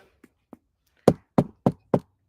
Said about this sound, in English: where you knocking? Where are you knocking at?